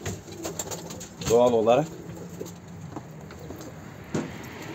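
Pigeon cooing close by, a single warbling coo of about half a second, with faint traffic and a brief spoken remark around it.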